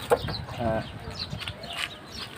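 Chickens and young chicks cluck in short, scattered bursts close by on a farm, with soft background noise and a few brief squawks over a couple of seconds.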